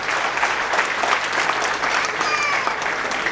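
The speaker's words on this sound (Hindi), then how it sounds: "एक बार जोरदार तालियां।" An audience at an IAS felicitation function breaks into loud, sustained applause, a dense even patter of many hands clapping at once that carries on steadily throughout.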